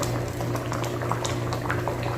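Mung bean stew with chicken wings and legs bubbles steadily in a pot, a soft continuous boiling with small popping bubbles, fairly quiet and close, with no talking.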